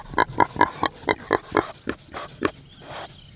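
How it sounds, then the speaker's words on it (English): Idaho pasture pigs grunting out on pasture, a quick run of short, fairly close grunts in an uneven rhythm, with a softer, more drawn-out grunt at the end. "Idaho pasture pigs are on pasture."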